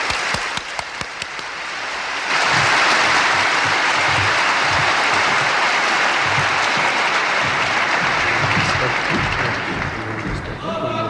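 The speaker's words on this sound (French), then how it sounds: "nous allons applaudir notre grand invité," A large audience bursts into loud, sustained applause for guest speaker Sheikh Ahmed Deedat, with a few scattered claps at first, then a full roar of clapping that continues steadily with some voices mixed in.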